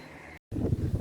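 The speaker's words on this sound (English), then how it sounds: "Weather-wise, very windy, very cloudy" Gusty wind rumbling against the microphone under a tree in a country park on a cloudy day, cutting out briefly before returning stronger and more blustery.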